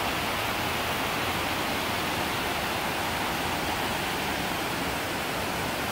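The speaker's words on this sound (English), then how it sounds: "So here is the waterfall, the spring waterfall." Spring waterfall at Saunders Springs nature preserve in Kentucky, a steady, dense broadband rush of falling water that stays even and continuous throughout, with no voices.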